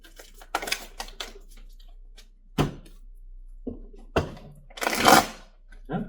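Tarot cards shuffled by hand during a career reading, heard as scattered bursts of riffling and flicking with quiet gaps between them and a louder flurry near the end, with no talking.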